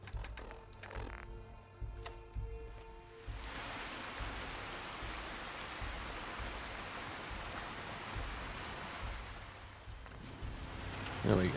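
Rain falls at night in the video game Fallout 4, a steady, even hiss that goes on throughout. Faint keyboard-like clicks and tones come at the start, and no one speaks.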